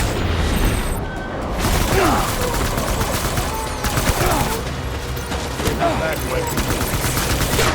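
Gunfire in the video game Death Stranding: dense, sustained bursts of automatic fire and booming shots in a chaotic firefight, loud and continuous, with shouting voices.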